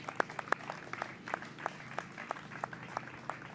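A small audience applauds a team at a political event, with distinct, fairly sparse claps popping out over a soft crowd background for a few seconds.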